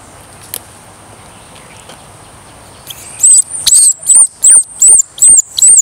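Near the end, a small squirrel gives a series of about seven shrill, evenly spaced chirping screams, loud and close, after a quiet stretch in a yard.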